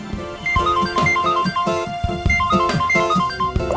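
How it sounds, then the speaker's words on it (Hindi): A phone ringtone plays a repeating electronic melody with steady beats, loud and continuous, no talking. "किसका फोन है?"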